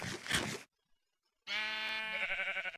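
A sheep in the Minecraft video game bleats twice, a short bleat followed after a pause by a longer, wavering one, both loud and close with no talk over them.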